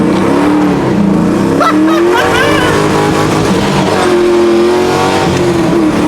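A Subaru WRX STI engine revs hard and loud from close by, the pitch rising and falling through several pulls as the car accelerates.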